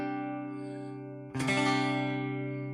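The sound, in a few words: electric guitar through Fender Deluxe Reverb amp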